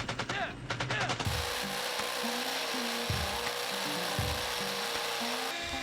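A power drill grinds steadily into brick, a loud continuous rasping whine that runs without pause after a brief start.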